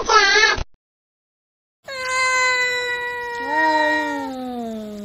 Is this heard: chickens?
no